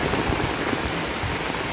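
Intense rain pours steadily during Typhoon Carina and the Habagat monsoon, a dense, loud, unbroken roar of water hitting surfaces close by.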